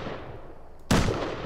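A single sharp gunshot in the survival video game Rust, a loud sudden blast that cuts in partway through against a steady low background hum and rings out briefly afterward.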